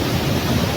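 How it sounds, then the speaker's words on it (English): Waterfall in Karura Forest, heard as a steady, loud broadband rush of falling water that stays even and continuous throughout with no talking. "Here is the waterfall now."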